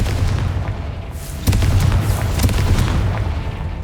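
A Confringo spell explodes in the Hogwarts Legacy video game, a loud, deep boom that hits sharply and then rumbles on for several seconds.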